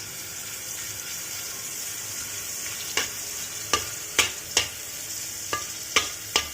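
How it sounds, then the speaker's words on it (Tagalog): Salted fish frying in a pan, a steady close sizzle with several sharp scraping stirs or spatula clacks repeating through the second half. "fry natin yung salted fish"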